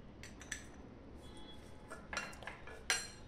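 Semolina and curd batter for suji uttapam being mixed in a bowl, faint scraping with a few light clinks of a spoon against the bowl, quiet and close with no voices.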